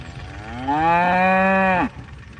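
A cow on a ranch gives one long, loud, close moo lasting about a second, steady and tonal before cutting off sharply, with quiet outdoor background around it.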